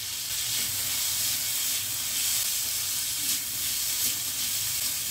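Chopped vegetables for rava upma cook on a low flame, giving a steady, soft broadband sizzle and hiss that holds evenly throughout with no talking.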